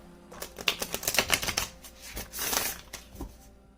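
Matte-finish gilded oracle deck cards are shuffled by hand, giving a close series of quick riffling flutters and soft slaps over a few seconds.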